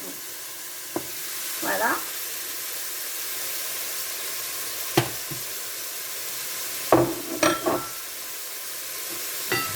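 Onions stirred in a pan for stuffed fennel, a steady frying sizzle with occasional scraping clinks of the utensil against the pan, while a voice speaks briefly.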